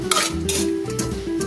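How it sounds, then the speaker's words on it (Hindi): Potato masala for vada pav is stirred and mixed in a pan, with a utensil scraping and clinking against the metal in short repeated strokes over a faint sizzle, close and fairly quiet. "अच्छी तरीके से इसे मिक्स करके"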